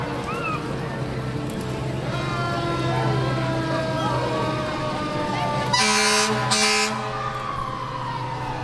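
Fire truck at a July 4th parade, a siren wailing with tonal horn sounds and a loud air horn blast near the end, with people talking in the crowd around it.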